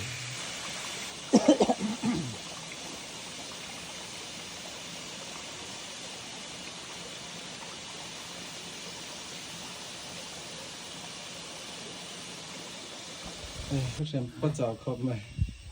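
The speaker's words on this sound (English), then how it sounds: "this is the highest waterfall in Mizoram" Vantawng waterfall in Mizoram, the state's highest, gives a constant broad roar that fills the whole stretch, with a brief cough and voices at the start and people talking again near the end.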